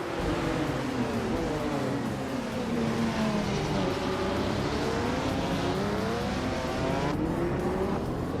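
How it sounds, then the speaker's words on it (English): A vintage 1982 Lancia LC1 and modern race cars pull away from the start at the Ibisu West track, engines climbing and dropping through gears in overlapping loud revs, then a sudden cut near the end. "Leon Yashin is on pole in her vintage 1982 Lancia LC1 at Ibisu West"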